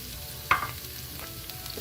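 Turmeric, cumin, coriander and chili powder frying gently over low heat in a pan, a soft steady sizzle with one sharp clink of a utensil against the pan partway through.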